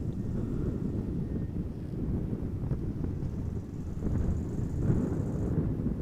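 Wind gusts across the open ground at Amsterdam Schiphol Airport, a steady broadband rush with rumbling buffets against the microphone and a faint distant aircraft tone, with no voices.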